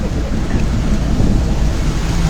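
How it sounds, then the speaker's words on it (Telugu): Rain falls in Pedaravuru with thunder, a loud constant rumbling wash of rain and deep thunder filling the whole stretch, without any speech. "స్వల్ప వర్షం పెదరావురులో కొద్దిగానే"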